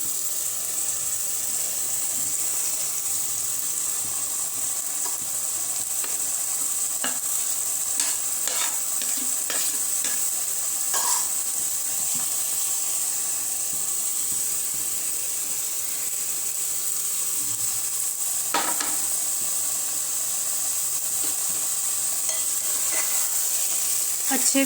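Mixed vegetables including cauliflower, fried beforehand, are stirred into a handi for a restaurant-style veg diwani handi, giving a steady loud sizzle with scraping stir strokes throughout.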